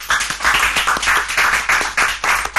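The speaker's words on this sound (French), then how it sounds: "à présent, Sarah est remplacée par Cybèle Ngalula sous vos applaudissements" Audience applause for a contestant being introduced on a French-language singing competition stage, a dense wash of clapping in rolling bursts, loud and close, with no voices over it.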